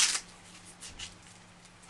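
A plastic bag with three closing strips is pulled open outdoors, giving crisp crackling bursts at the start and end. Faint rustling fills the gap between them.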